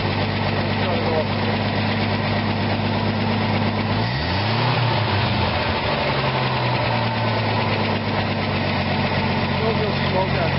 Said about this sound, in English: It's running good. It's running real good.